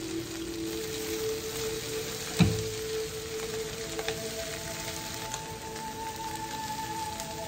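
Half a cup of cream and two tablespoons of butter bubble gently on low heat in a pan, a soft steady sizzle with faint crackles and a single clack of a utensil, no talking.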